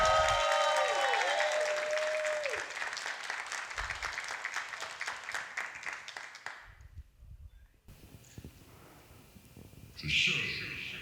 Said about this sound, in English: let's give a nice, amazing round of applause to the Prima Donna